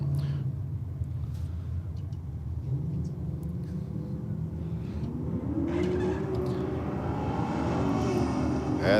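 A Holden HG drag car launches down the strip with a rising engine roar that climbs in pitch as it accelerates away, over a rumbling background, with a commentator talking.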